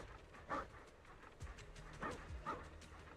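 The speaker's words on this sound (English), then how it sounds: "It is acting like a normal dog." A dog character in Zenless Zone Zero barks a few times and gives soft whimpers, several short, fairly quiet bursts spread across the moment over a low game background.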